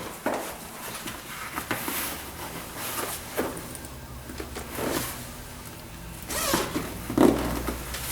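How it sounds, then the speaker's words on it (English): Soft, repeated zipping strokes as the inner zipper of a Human Touch Gravis massage chair backrest pad is pulled open, quiet and close with small pauses between pulls. "And then the inner zipper."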